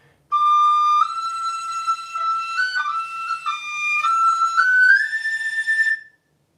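A tin whistle plays a slow tune, clear and alone, with sustained bright notes stepping upward, one held note sliding higher near the close before stopping.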